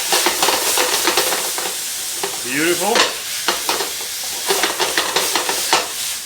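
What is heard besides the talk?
Madeira wine cooking off in a pan with chicken liver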